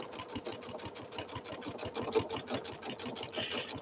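A sewing machine stitches a curvy improv quilt at a quick, steady mechanical rhythm of close, regular needle strokes, soft and with no voices.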